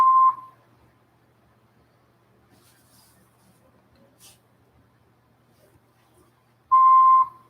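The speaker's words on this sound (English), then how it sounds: "Please leave a message after the beep." Answering machine beep on a phone line, a clean steady electronic tone sounding once briefly at the start and again after a long near-silent pause, loud and alone.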